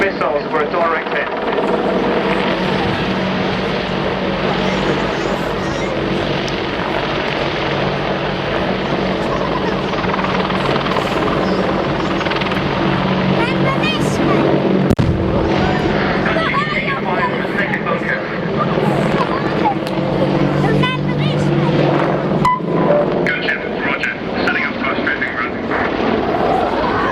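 A pair of attack helicopters at the Cosford 2015 air display make a loud rotor thrum and turbine roar that swells and shifts as they manoeuvre, with a commentator talking over it.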